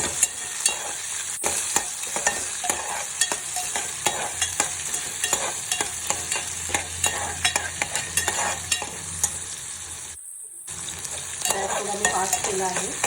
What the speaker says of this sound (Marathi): कांदा थोडा मऊ होईपर्यंत आपण परतून घेऊया.